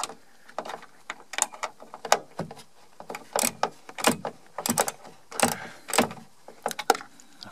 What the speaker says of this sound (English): For this, I'm going to use the 10mm socket.